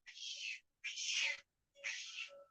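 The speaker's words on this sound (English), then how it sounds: "It's almost like she's got a smoker's meow." Three raspy, breathy cat meows in a row, each about half a second long, close and fairly loud, with short silent gaps between them.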